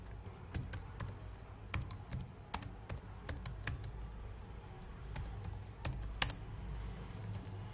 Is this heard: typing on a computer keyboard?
yes